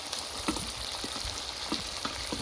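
Potatoes and garlic frying with chicken in a pan make a quiet, constant crackling sizzle, broken by regular soft thuds and scrapes of stirring.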